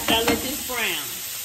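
Taco meat browns in a pan with a close sizzle and a couple of scraping stirs near the start, brief and fairly loud with no talking.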